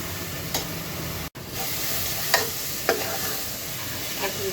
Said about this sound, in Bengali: দুই তিন মিনিট পর্যন্ত একটু ভেজে নিতে হবে